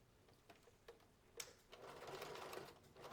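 A domestic sewing machine runs in short bursts, then in a steadier, louder stretch as it stitches a neckband into a baby's sweater, heard up close with no talking.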